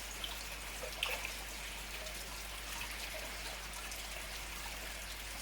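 Soft, continuous trickle of water falling into a koi pond from a small bog filter waterfall, faint and steady with a few light splashes, no talking.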